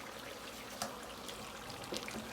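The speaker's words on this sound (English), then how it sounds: "Now I'm just adding the final water" Water pouring into a pot of mutton and okra (bhindi) curry on a gas stove, a soft steady trickle at low level with a couple of brief splashy bursts.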